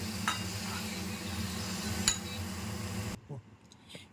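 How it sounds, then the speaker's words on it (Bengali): Green nate shak (amaranth leaves) is stir-fried in a pan, sizzling close and steadily with stirring scrapes for about three seconds, then the sizzle stops and a few light utensil clinks follow. "শাক ভাজা কমপ্লিট, এবার নামিয়ে নেব।"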